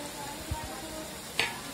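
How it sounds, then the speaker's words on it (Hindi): Spice powders of turmeric, red chilli and salt hit hot oil in a kadhai for paneer butter masala, giving a steady soft sizzle with a couple of low knocks and one sharper clink. "अब मसाले डाल दीजिए कढ़ाई में"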